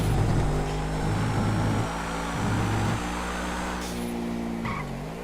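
A video game car, a Continental, drives down a long road with a steady engine drone that shifts pitch through gear changes, broken by sharp tire-skid squeals, all fairly loud with no voices over it.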